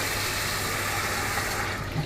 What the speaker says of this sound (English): now just fill that up with water and let it soak